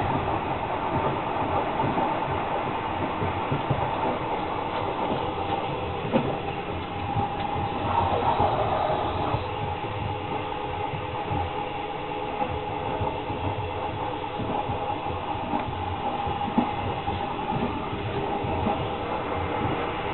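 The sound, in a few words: train ride from Kuala Lumpur to Bangkok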